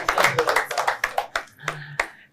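A studio audience on a talk show claps in a short spatter of sharp, uneven hand claps that tapers off after about two seconds, with a voice briefly heard among them.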